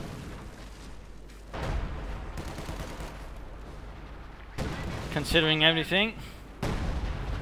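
Artillery fire in Company of Heroes 2 pounds a Soviet forward position, with repeated heavy booms and rumbling blasts. Someone talks over much of the barrage, and a short tonal game sound cuts in near the end.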